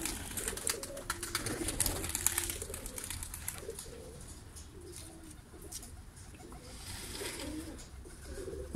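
Pigeons cooing inside a newly fitted net cage, with soft repeated coos and some chirps over a steady rustling background, moderately close and continuous throughout.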